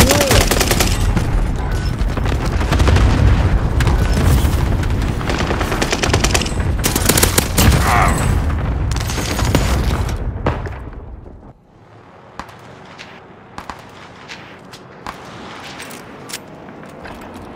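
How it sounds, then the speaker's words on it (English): Cluster strike in the video game Call of Duty: Modern Warfare: a loud, dense barrage of blasts and rapid gunfire rolls on for about eleven seconds, then drops to a quieter stretch of scattered, sharper pops. "Enemy cluster strike."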